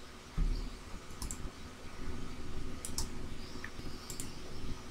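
Computer mouse clicks while inserting a shape in PowerPoint: a few faint, quick single and double clicks spread through a quiet room, with no talk.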